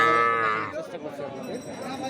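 Cattle at a village livestock market, small bulls and heifers for sale: a single close bovine moo-like bellow opens, then fades into a murmur of crowd chatter and market noise.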